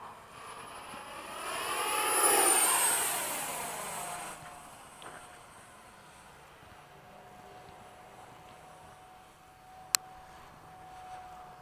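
An FMS 70mm F/A-18 radio-controlled electric ducted-fan jet makes a flying pass outdoors, its whooshing whine swelling loudly then fading into steady distant hum, with one sharp click near the end.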